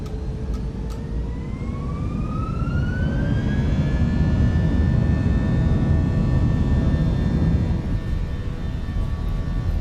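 Simulated Airbus A320 engines spool up for takeoff in a flight simulator, a loud broad roar with whining tones sliding upward and then holding steady, the thrust noise constant and close throughout.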